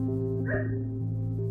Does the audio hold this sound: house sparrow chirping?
no